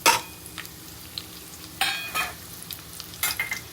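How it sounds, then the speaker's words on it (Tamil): Finely chopped onions go into hot oil with cumin seeds and fry with a soft, steady sizzle, broken by a few louder scraping stirs, close up with no talk. "இந்த குட்டி குட்டியாக நறுக்கி வச்சுருக்கிற வெங்காயத்தை போடுறோம்."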